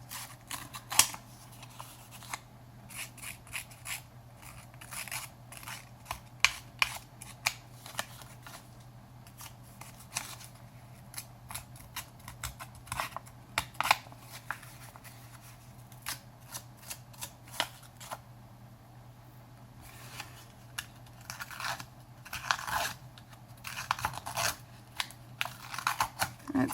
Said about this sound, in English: I'm going to round the corners to see if I can get these corners done with it as well